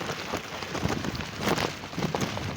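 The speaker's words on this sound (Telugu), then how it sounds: "మళ్ళీ వాన ఎక్కువ అయిపోతుంది" Heavy rain falls outdoors in a village, a dense, continuous hiss of drops at moderate loudness with occasional gusty bursts and no clear voices.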